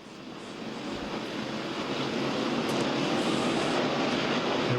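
Stock cars roar around Darlington Raceway during a NASCAR Winston Cup race, a broad steady engine drone that swells slightly, distant and blended with crowd and wind noise, with no voices.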